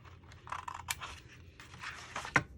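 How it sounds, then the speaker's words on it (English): Large scissors cut paper while a gift box is made, giving a few crisp, close snips and scraping cuts with short pauses between them. "I'm gonna get my bigger scissors, guys."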